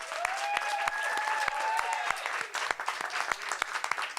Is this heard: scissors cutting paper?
no